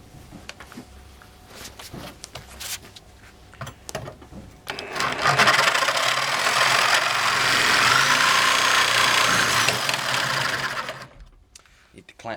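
A Bosch GSA1100E reciprocating saw cuts through metal, a loud, steady buzzing rasp that starts about a third of the way in and runs for several seconds before cutting off, preceded by quieter handling noises.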